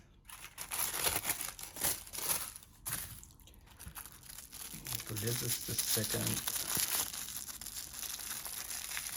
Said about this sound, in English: I try not to make that much noise with the paper, but really can't.